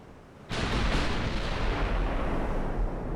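Naval artillery from the warship battle game Ultimate Admiral Dreadnoughts, a single heavy boom that bursts in abruptly after a quiet start and rolls on as a loud, sustained rumble.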